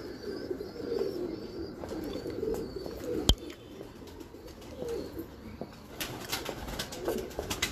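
Pigeons coo on a rooftop, their soft repeated low calls overlapping steadily at moderate distance, with a sharp click near the middle and brief flutters and chirps later.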